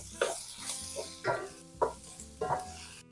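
Chorizo sizzling in a pan for a callos stew, with steady frying hiss broken by four or five stirring scrapes against the pan, close and moderately loud.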